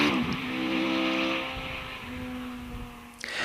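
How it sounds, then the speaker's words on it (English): A Westfield Megabusa sports car races up a British speed hillclimb course, its engine roaring steadily at high revs and then changing pitch as it shifts and passes close by. "This is an all-action run in the Westfield Megabusa, using all the road and more at Ashes."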